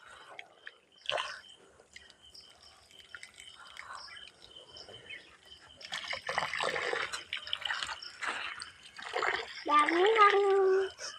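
A child bathes in a water tank, with scattered drips and small splashes that build into louder splashing toward the end, and voices talking intermittently nearby.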